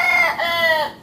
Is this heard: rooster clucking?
yes